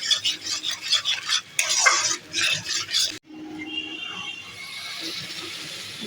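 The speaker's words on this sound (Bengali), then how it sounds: "এবার এটাকে আমি ভালো করে কষিয়ে নেব।" Masala for Kashmiri dum aloo is stir-fried in a pan with busy scraping and sizzling for about three seconds, then cuts to a quieter, steady hiss of frying.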